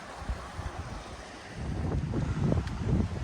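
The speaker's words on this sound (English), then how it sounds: "It's so windy," Wind buffeting close up on the Cheviot border ridge, low rumbling gusts that swell and grow stronger, with a faint wash of a river in the background and no talking.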